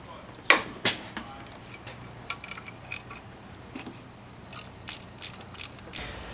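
A ratchet wrench clicks in short, uneven bursts as it loosens a camshaft sprocket during a head gasket job, close and fairly quiet, with pauses between the runs of clicks and no talking.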